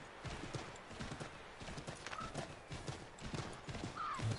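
Horse hooves clip-clopping at a steady walking rhythm, with a brief whinny, set against a quiet outdoor field background in Assassin's Creed 3.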